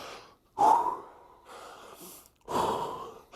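Two heavy, loud gasping breaths close up during rest between sets of a hard leg workout, each a sharp rush of air that trails off, with a quiet pause between them.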